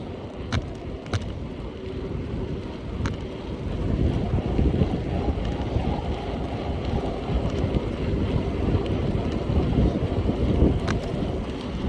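Wind roars and buffets the microphone during a long outdoor bike ride on a trail on a mild day of about 61°F, a steady broadband rush that swells slightly partway through, with no talking.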